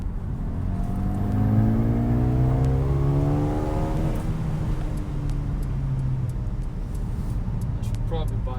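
2020 Mercedes-AMG CLA 35 engine rising through smooth gear changes from inside the cabin while driving at night, steady and moderately loud under people talking.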